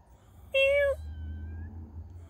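A cat gives one clear, loud meow, followed by a thinner, fainter mewing cry and the start of another meow at the end.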